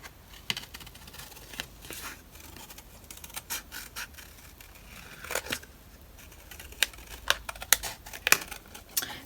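Scissors snipping a paper scrap down to fit inside a chipboard frame for a journal page, a steady run of soft crisp cuts and rustles, close and quiet with sharper snips toward the end.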